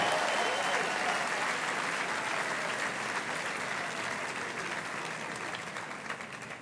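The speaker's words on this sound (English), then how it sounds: "How about another round of applause for our great Senator Chuck Schumer?" Sustained applause from a dinner audience at a formal fall banquet, a dense steady wash of clapping that fills the room and slowly tapers off, with no speech over it.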